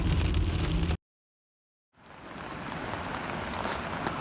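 Steady rain pours at a canyon in Alabama, a dense, close hiss that cuts out for about a second of silence before gradually swelling back to a full, even wash.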